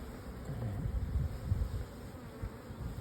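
Honeybees buzz in a dense, steady drone around an open hive during an inspection, the sound close and continuous with small swells in loudness, with no voices.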